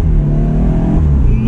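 BMW Z4 engine droning loud and close during a drift attempt, a sustained low mechanical hum with rising pitch toward the end as it revs.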